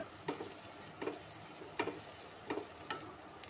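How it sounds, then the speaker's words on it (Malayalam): Chopped vegetables being stirred in a pan give soft, faint, evenly spaced scraping strokes, roughly one every three quarters of a second, over a quiet sizzle, with no voices. "അതെല്ലാം കൂടി ഒന്ന് മിക്സ് ചെയ്ത് ഇളക്കി യോജിപ്പിച്ച് ജസ്റ്റ് ഒന്ന് വെന്ത് കിട്ടിയാൽ മതി നമുക്ക്"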